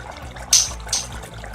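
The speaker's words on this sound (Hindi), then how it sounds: "1 कप के करीब, आधे से 1 कप के करीब पानी डालेंगे" Water pours into a pot of potatoes for a chickpea and potato curry broth, coming as two short splashy bursts over a faint background of trickling liquid.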